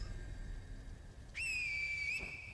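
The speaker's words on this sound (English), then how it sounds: "Now we're gonna use the finger whistle." A finger whistle in the game Sekiro rings out as one sharp, loud, sustained whistle about a second long, rising at the start and bending at the end, over a quiet low hum.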